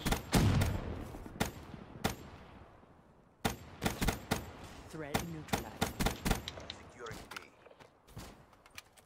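Rapid gunfire in Call of Duty: Black Ops 3, loud sharp shots cracking in quick bursts with short gaps, mixed with footsteps and other game effects.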